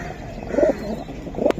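A pigeon coos twice at a bird market, short throaty burrs close to the microphone over a murmur of background noise.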